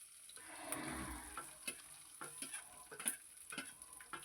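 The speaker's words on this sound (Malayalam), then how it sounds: "ഇനി നമ്മൾ അരിഞ്ഞു വെച്ച സവാള ഇതിലേക്ക് ചേർത്ത് കൊടുക്കാം." Sliced onions are dropped into hot oil in a pan and fry with a faint, soft sizzle that swells at the start, dotted with light stirring clicks and taps.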